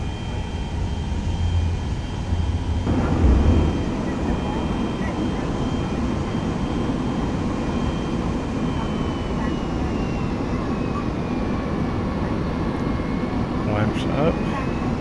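Simulated Lockheed L-1011 jet airliner on its takeoff roll in a flight simulator, steady loud engine roar and rumble throughout, a thump early on, with a voice talking over it.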